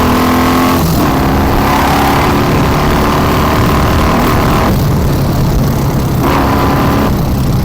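A motor vehicle engine revs loud and close as the throttle is opened in repeated surges, its roar rising and falling continuously with no talk over it.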